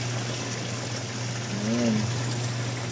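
Water overflowing and pouring down, a steady trickling flow with a low constant hum underneath and a brief rising tone in the middle.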